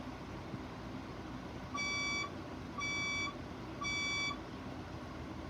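Building fire alarm sounding three evenly spaced electronic beeps for evacuation, clear and tonal against a low background hum.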